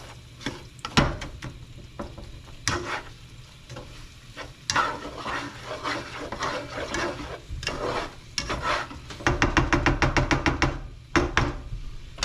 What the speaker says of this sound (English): And then just give our meat one last stir.